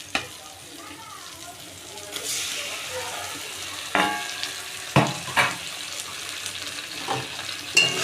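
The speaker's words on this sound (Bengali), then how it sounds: "এবার ওই লোটে মাছ মাখানোটা দিয়ে দেবো।" Marinated Bombay duck fish hits hot oil and fried onions in a pan, a soft sizzle rising partway through, followed by several distinct scraping clanks of a utensil stirring.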